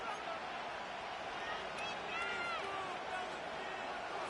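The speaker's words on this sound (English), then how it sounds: "This crowd turning up the decibel level." A football stadium crowd cheers and roars steadily throughout the closing seconds of a college game, a dense, sustained wall of noise with no clear break.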